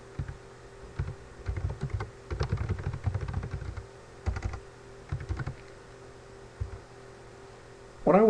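Close, soft keystrokes on a computer keyboard come in short, uneven bursts while someone types code, over a faint steady electrical hum, with pauses between the bursts and a brief voice at the very end.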